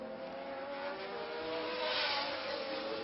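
Race cars run at the Grand Prix de France at Paul Ricard, a continuous high engine drone that swells as a car passes close, heard alone without talk.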